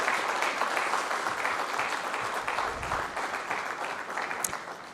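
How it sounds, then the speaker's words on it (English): Applause from the audience at a New Delhi intellectual property conference inaugural session, a continuous even patter of many hands in a large hall, moderately loud and sustained to the end. "I request all of you to give a big round of applause to all our guests present on the stage."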